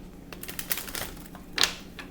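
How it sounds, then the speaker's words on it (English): Tarot cards are shuffled by hand in a short burst of soft papery riffles and taps, close and quiet, with a brighter flick near the end. "So I'm going to have to shuffle the cards"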